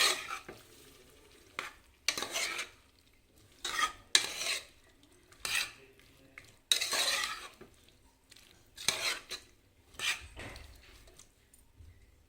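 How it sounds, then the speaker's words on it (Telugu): A spoon stirs tomato and cucumber pieces through a tempered pan for a cucumber and moong dal dish, giving about ten separate scraping, clinking strokes with a faint sizzle in the pauses. "టమాటా ముక్కల్ని కూడా ఒకసారి మొత్తం అంతా కలిసేలాగా కలుపుకోవాలి"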